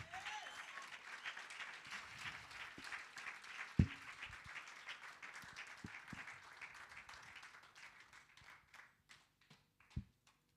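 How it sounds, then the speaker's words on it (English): An audience at a women's sports summit applauds, a moderately quiet sustained clapping that gradually thins out into scattered individual claps, with a few sharp louder claps standing out. "Let's continue giving her a round of applause."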